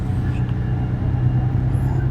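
Gunung Harta executive bus cruising fast along a Surabaya toll road, heard from inside as a steady low engine and road rumble with constant loudness, no talking.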